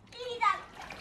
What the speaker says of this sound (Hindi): घर पर आके बच्चे खेलने लगे हैं पानी में।